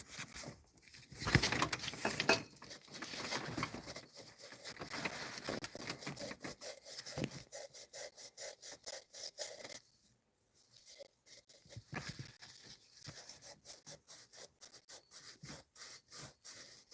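A worn Scotch-Brite pad scrubs the mating surface of a driver's side bank cylinder head in quick, rasping back-and-forth strokes, close and steady, with a brief pause midway before the rhythmic rubbing resumes.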